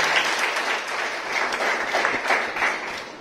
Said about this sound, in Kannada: ಅವರಿಗೆ ಒಂದು ಜೋರಾಗಿ ಒಂದು ಚಪ್ಪಾಳೆಯನ್ನು ಕೊಡಿ